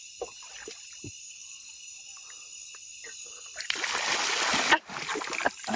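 Water splashing as someone bathes in a river deep in the Amazon rainforest, a burst of loud close splashes rising after quieter stretches filled with insect and cricket buzzing.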